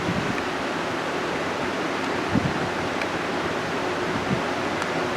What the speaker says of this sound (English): So please excuse the fan noise.